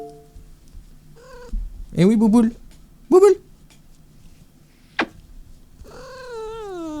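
A female cat in heat meows and yowls several times in drawn-out, rising calls, close by, while someone talks softly to her in French between the cries.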